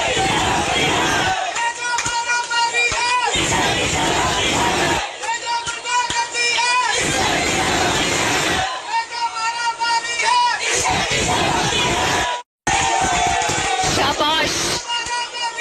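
A large crowd at a Maryam Nawaz political rally chants slogans in loud, rhythmic bursts, repeating call-and-response waves with brief pauses between them.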